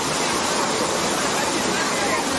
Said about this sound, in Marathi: तर फायनली मित्रांनो आम्ही धबधब्याकडे आलेले आहेत. धबधबा एक नंबर आहे डायरेक्ट.